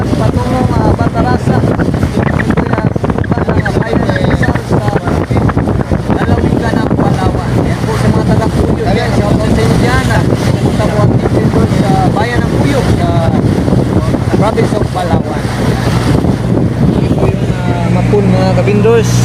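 Boat under way at sea off Palawan, with strong wind buffeting the microphone and a low engine or hull rumble, while people talk over the noise.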